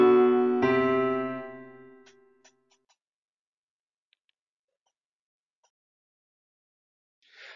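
A chromatic rendering of keyboard chords: one chord sounds, a second follows shortly after and fades away, then faint ticks and near silence.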